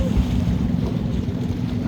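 A motor trawler on a river, its engine a steady low rumble mixed with wind and water wash, loud and continuous, with no talk over it.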